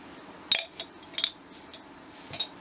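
A metal spoon scooping homemade candied chili into a bowl of samurai sauce, giving a few light, close clinks against the dish amid quiet room noise.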